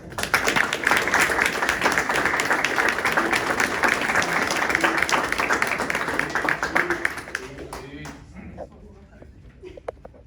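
Dense, loud applause fills a township council meeting room in New Jersey, many hands clapping steadily before thinning out and fading into scattered claps over the last few seconds, with some voices mixed in.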